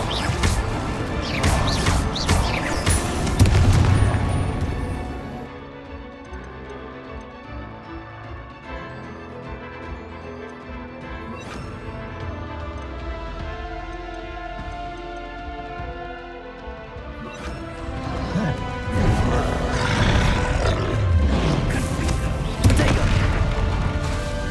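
Bombarda blasting spells exploding in the Hogwarts Legacy video game, heavy booming blasts loud at the start and again near the end, with a sustained orchestral game score swelling in between.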